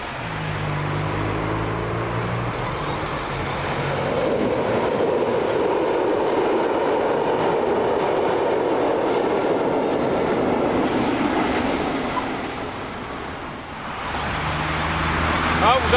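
A train crossing a bridge, a steady broad rumble rising and holding for most of the span before easing off, with tonal hum at the start and end; people can be heard talking faintly nearby.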